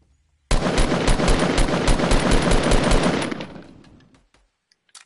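Rapid automatic gunfire from enemies in a Fortnite-style video game blasts loud and continuous for about three seconds, then fades out into a few faint scattered clicks.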